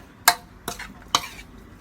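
Sliced kaffir lime leaves and herbs stirred into a fish larb made with carp: three sharp utensil scrapes and clinks spaced evenly apart, close and clear, with no talking.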